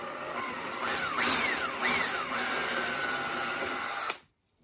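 A power drill bores a dowel hole into a wooden baseboard, its motor whining steadily with a couple of rising-and-falling speed surges before stopping abruptly near the end, close and loud.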